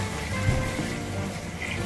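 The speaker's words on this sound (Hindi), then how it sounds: "तो अब हम इसमें ऐड करेंगे ढेर सारा पानी, जिससे हमारा गोश्त गल जाए" Water poured from close by into a pot of beef paya, a continuous splashing gush, fairly loud and steady for a couple of seconds with no talk over it.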